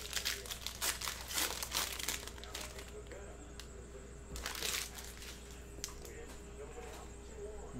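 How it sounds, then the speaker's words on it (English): A Panini Prestige football card foil pack from 2018 is torn open with loud crinkling and crackling, in dense bursts that fade to lighter rustling. "now let's rip open this pack"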